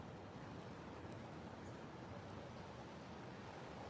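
Steady outdoor wind at sunset by a garden, a dense continuous rushing roar buffeting the microphone at an even level throughout, with no talking.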